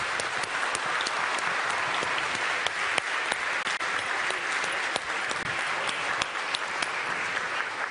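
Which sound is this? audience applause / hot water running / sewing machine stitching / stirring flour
audience applause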